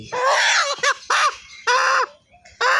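A rooster with an injured, bleeding and bruised leg gives loud, close squawking distress calls in several harsh bursts with short gaps between them.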